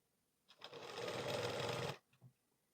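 Sewing machine stitching a 40-inch blouse runs in one steady burst of about a second and a half, close and loud, followed by a couple of brief mechanical clicks.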